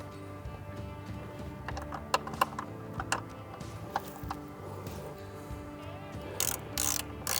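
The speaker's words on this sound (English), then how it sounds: "we're going to torque it to 80 inch-pounds" A torque wrench tightens an 8mm bolt to 80 inch-pounds on the airbag tether at the A-pillar of a 2021+ Ford Bronco, giving quiet ratcheting clicks in short bursts followed by a few sharp metallic snaps.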